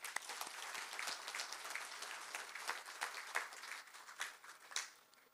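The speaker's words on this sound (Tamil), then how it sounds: "நல்லா கைதட்டுங்க" Audience applause at a Tamil political gathering, a dense patter of many hands clapping at moderate distance, swelling and dipping irregularly for several seconds.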